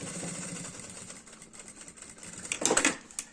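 A sewing machine runs a short seam on a fabric nécessaire box, a faint close mechanical whir that rises into a brief quick burst of stitching near the end.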